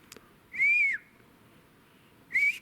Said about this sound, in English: can you guys give me a whistle?